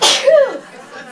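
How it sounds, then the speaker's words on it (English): One loud, close sneeze with a sharp burst and a voiced tail, then a brief trailing breath, in a live music studio. "I'm gonna sneeze."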